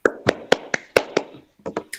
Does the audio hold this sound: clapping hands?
yes